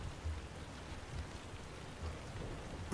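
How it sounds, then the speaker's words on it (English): Light rain falls as a faint, diffuse patter and hiss, steady and soft throughout, with a brief louder bump at the very end. "Got a little bit of rain."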